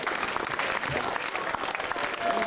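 A crowd applauds steadily for a reggae singer at a community event, dense continuous clapping filling the room with a faint voice underneath.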